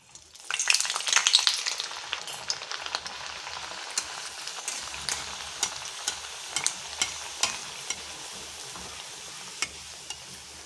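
Luchi, puffy Bengali fried bread, sizzles and crackles in hot oil, starting with a loud burst and then settling into a steady spitting fry dotted with sharp pops, close and with no talk.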